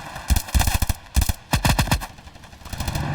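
Gunfire in the mobile shooter Standoff 2 comes as loud, close rapid bursts of automatic shots, several quick volleys with short gaps between them.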